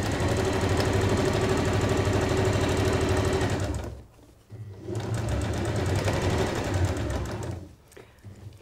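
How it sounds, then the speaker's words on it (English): A sewing machine runs loud and close, stitching the fabric outer of a fold-over clutch bag in two steady bursts with a short pause between them. "I'm going to sew the outer of the bag, first of all, down to those pins"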